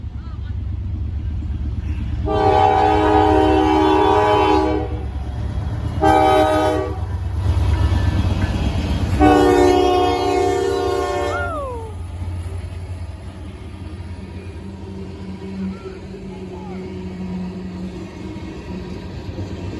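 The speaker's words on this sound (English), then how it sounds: "It looks like a tanker train." A Norfolk Southern tanker train passes through snow, sounding three long horn blasts over a steady low rumble and clatter of rail cars, then rolling on more quietly, with people talking nearby.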